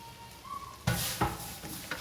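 Minced meat keema frying in a little oil for a stuffed karela dish, with a spatula clattering against the pan in a few distinct scrapes over a soft sizzle.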